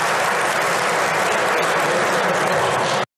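A hall audience applauds during President Kassym-Jomart Tokayev's address to the nation in Kazakhstan, dense loud clapping that holds steady for about three seconds and then stops abruptly.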